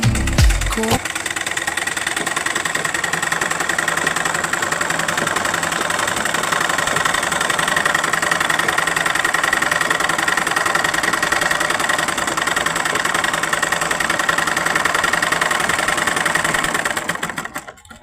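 A sewing machine stitches a dress, running in one steady, continuous mechanical drone with a fast repetitive rattle for most of the clip before stopping near the end.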